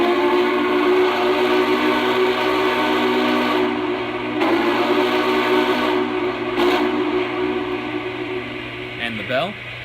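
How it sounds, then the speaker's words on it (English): Whistle of a Lionel Vision Line Big Boy model locomotive, Union Pacific 4014, sounding as a long, steady, loud tone over a continuous rumbling background, with a brief rising blip near the end. "So let's listen to the whistle."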